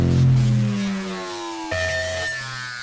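Electric bass pushed through Ableton Roar distortion with LFO modulation, a crunchy sustained tone with a pitch that sweeps downward, then a sudden jump to a new buzzing note, loud and alone.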